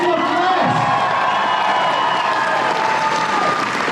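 A convention crowd applauds and cheers for two voice actors on stage at a Transformers anniversary panel, dense continuous clapping with whoops filling the room at close, loud level throughout.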